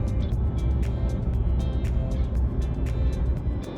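A converted bus cruises along a tall tree-lined road near Crater Lake, its engine and tires making a steady close rumble marked by a regular light ticking.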